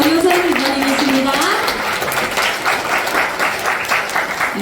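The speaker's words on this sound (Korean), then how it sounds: "큰 박수로 모셔보도록 하겠습니다." Audience at an indoor gathering gives sustained, loud applause to welcome a speaker, dense clapping filling the room with a voice briefly heard at the start.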